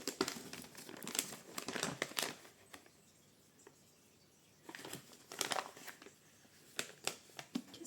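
Christmas gift wrap paper held with tape crinkling and tearing up close in loud bursts, pausing briefly, then rustling and crackling again.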